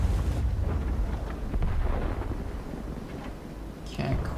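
A tank cannon firing in the World of Tanks video game, a deep booming blast with a rumbling tail that fills the clip, heavy and close.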